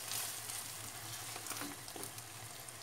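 Chopped liver, ground like mince, sautéing in a pan for a breakfast liver kavurma, giving a steady close sizzle and frying crackle throughout with a low hum beneath.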